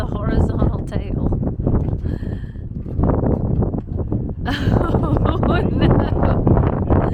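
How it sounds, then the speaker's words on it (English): Strong gusty wind roars and buffets the microphone outdoors while a glider is being assembled, a loud continuous rush with people talking and exclaiming over it. "The wind is so bad it takes two people to hold on to the horizontal tail."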